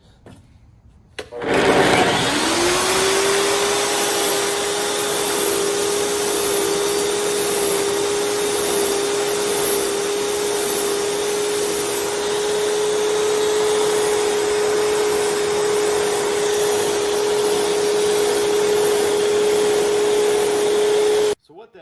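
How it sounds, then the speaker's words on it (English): An iQ TS244 wet tile saw starts up and runs with a loud, steady whine for about twenty seconds while its diamond blade is dressed, then cuts off. "I'll show you really quickly how to dress that blade"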